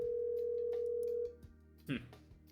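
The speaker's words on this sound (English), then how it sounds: "I pick up my phone from the nearby table and start entering the Lyons number" A phone in a visual novel game dialing a number: a steady electronic tone holds for over a second, then cuts off, followed by a brief chirping blip.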